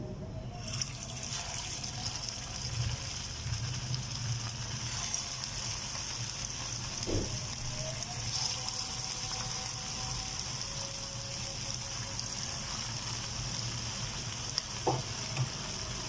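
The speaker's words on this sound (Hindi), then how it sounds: "अब हम उनको अपने हैश ब्राउन को फ्राई करेंगे" Hash browns fry in hot oil on a stovetop, a constant close, bubbling sizzle with a couple of brief clinks and a faint background hum throughout.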